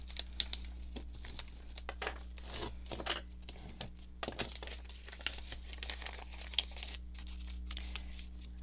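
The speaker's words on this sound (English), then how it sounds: "So my first step would be to fold the concertina." Bead-dyed paper trimmed with lace is folded into a concertina, giving soft, steady crinkling and creasing with occasional sharper paper crunches, close and unaccompanied by talk.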